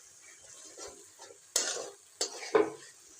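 Masala being stir-fried in a pan, quiet and close, with a few distinct spatula scrapes and clatters against the pan over a faint sizzle and no talking.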